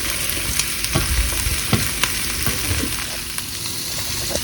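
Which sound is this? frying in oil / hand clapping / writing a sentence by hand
frying in oil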